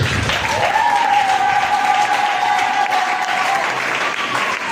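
Loud, continuous clapping rises from a church congregation during a Sunday service in Tegeta, Dar es Salaam. The applause stays full and steady for a few seconds while a sustained voice tone carries above the crowd.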